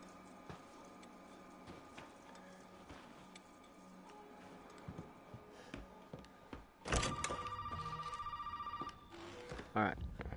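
Partway through, a telephone starts ringing inside a PS4 video game, a steady pulsing electronic ring lasting a couple of seconds over ongoing game sounds and clatter.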